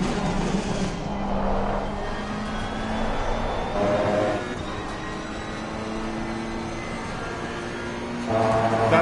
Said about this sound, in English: That's now an upshift to third.